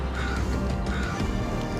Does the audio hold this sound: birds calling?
yes